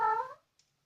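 A domestic cat lets out a single short meow, fairly close and alone, during an indoor repair of LED light bulbs. The call trails off within half a second and quiet follows.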